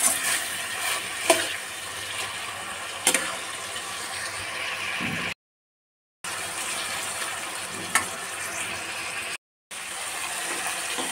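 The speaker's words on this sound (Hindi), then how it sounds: "थोड़ी सी और फ्राई करूंगी" Chow mein ingredients fry in a pan with a steady, close sizzle and occasional stirring clicks, broken by two short silent gaps.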